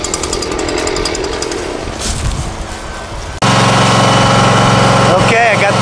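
A lawn mower engine catches and runs, a loud, steady close-up mechanical roar that sets in abruptly partway through after a stretch of lower, rougher noise.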